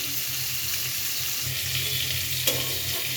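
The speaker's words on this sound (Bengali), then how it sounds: "মাছটা ভালো করে একটু ভাজা হলে তারপর উল্টাবেন" Fish frying in oil in a kadai gives a steady, moderate sizzle with a soft stirring texture, and a brief sharp clack near the end.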